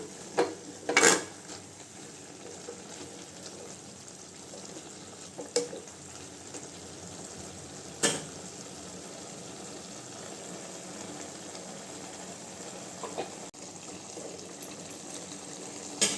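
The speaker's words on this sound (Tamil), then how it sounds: "இப்போ கீரையெல்லாம் சேர்த்தாச்சுங்க நல்லா கிண்டி விட்டுக்கலாம்" Manathakkali greens being stirred and fried in a pan, giving a steady low sizzle with a few sharp scraping knocks of the spoon against the pan, heard alone without talk.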